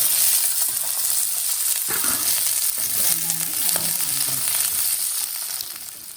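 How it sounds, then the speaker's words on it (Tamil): Onions fry in oil for a Kongu-style meat curry, giving a loud continuous sizzle up close with bursts of scraping and stirring through the middle before the hiss eases slightly at the end. "எண்ணெய் ஊற்றி வெங்காயம் போட்டுக்கணும்."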